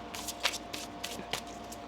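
Tarot cards are shuffled close by, giving soft papery riffles with a few sharper flicks spread across the moment, quiet and with no voices.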